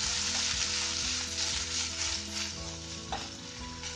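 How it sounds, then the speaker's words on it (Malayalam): Tomato curry sizzles in a pan as a spoon stirs and scrapes through it in repeated strokes, close up and steady, with no voices. "ഇളക്കി കൊടുക്കാം."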